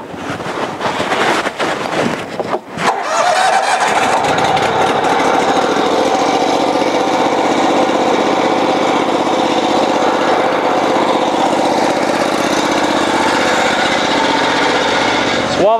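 A cold water jetter's engine is choked and pulled to start, sputtering briefly before catching and settling into a loud, steady, close-up idle drone, with some wind noise and no talk.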